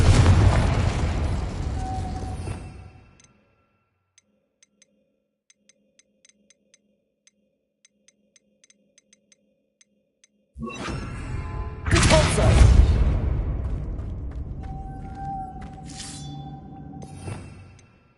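Two loud spell blasts from Harry Potter's Incendio and Confringo, each a sudden broadband burst that rumbles and trails off over a few seconds, separated by a long silence.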